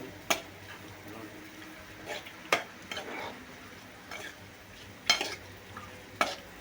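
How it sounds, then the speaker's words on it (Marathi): Mutton being mixed by hand or spoon with yogurt and salt in a bowl for a marinade, giving soft wet squelching and stirring noises punctuated by a few sharp clinks against the bowl, close up and moderately quiet. "छान हे मिक्स करून घेऊया आपण"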